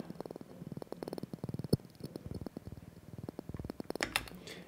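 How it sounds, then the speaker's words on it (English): Squelch synth patch from Serum 2: a quiet stream of short, rubbery, resonant pulses in a quick rhythmic pattern, with brighter filtered blips toward the end. "I got this one, which is a squelch."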